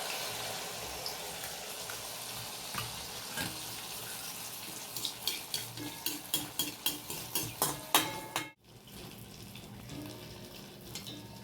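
Spoonfuls of banana malpua batter drop into hot oil in a pan and fry with a crackling sizzle, with a run of quick, evenly spaced ladling splashes before the frying settles.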